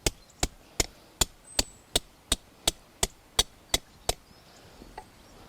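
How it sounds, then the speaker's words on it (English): A hazel stick is hammered into stony ground by a doorway, about a dozen sharp, evenly spaced knocks in steady rhythm, fairly close, with quiet outdoor background between strikes. "I'm going to take one of my hazel sticks and just hammer him in"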